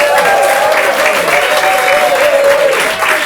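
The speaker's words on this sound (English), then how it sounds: "give yourselves a huge round of applause, ladies and gentlemen" Audience applause at a limerick-writing competition final, steady dense clapping from a large crowd filling the room throughout, loud and continuous with no talk over it.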